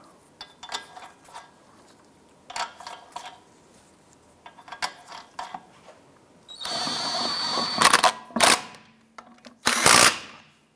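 Power tool snugging lug nuts on a 2001-2007 Ford Escape wheel, several short metallic clicks and clanks at first, then loud close impact-gun bursts of a second or so, repeated three times.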